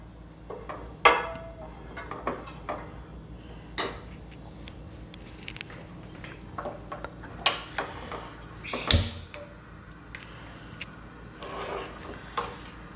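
Vattayappam batter being stirred in a pot on the stove in a Kerala kitchen, heard as scattered scraping clinks and soft knocks of a utensil against the pot, at moderate, irregular intervals with no talk.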